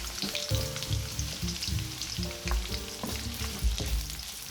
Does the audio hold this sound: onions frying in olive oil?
yes